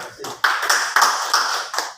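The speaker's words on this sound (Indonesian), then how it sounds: "Terima kasih, tepuk tangan." An audience at a monthly community gathering in Bandung claps in several short, sharp bursts of applause, close and fairly loud, over about two seconds.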